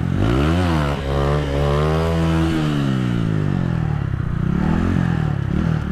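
A Honda CBR 125 motorcycle engine revs loudly and close, climbing and dropping in pitch across several gear shifts, a continuous buzzing drone with no talk over it.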